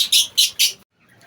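Pet parakeets give three loud, close, bright chirps in quick succession, followed by a brief silence and a couple of faint trailing peeps.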